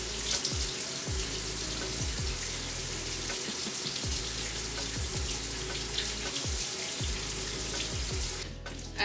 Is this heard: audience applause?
no